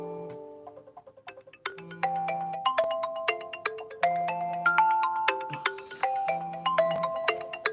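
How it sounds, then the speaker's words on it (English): A mobile phone plays its ringtone, a bright repeating melody of chiming electronic notes that rings loudly and continuously in the room without any talk. "Oh, that's my phone."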